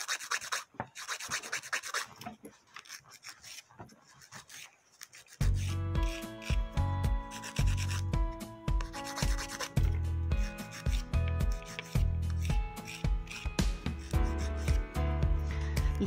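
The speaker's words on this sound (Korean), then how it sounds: "이거 우드 파일로 이 자연네일 관리할 수 있는 파일이거든요." A wooden nail file rubs back and forth across a natural fingernail, first as quiet, sparse scratches and then as loud, fast, rhythmic rasping strokes.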